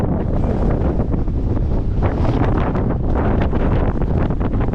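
Strong headwind roars steadily across the microphone on a bike ride, a loud and continuous buffeting rush with no pauses.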